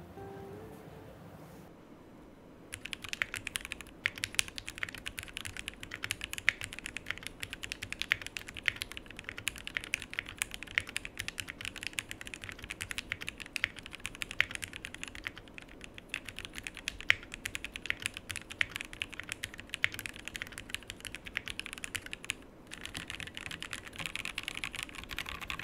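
Steady, close typing on a Link65 mechanical keyboard with an aluminium plate, no foam and KS3X47 Yellow switches, a dense run of quick clacky keystrokes that starts after a short quiet opening and keeps going, with no talking.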